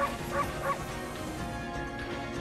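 The dog character in the video game Okami HD barks twice in quick succession, short and light, over dense, steady game music and effects.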